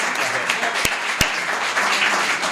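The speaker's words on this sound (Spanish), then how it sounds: "Un aplauso para Leo" An audience at a finance conference applauds, a short burst of dense clapping with a couple of sharp, louder claps standing out close by, and no talking over it.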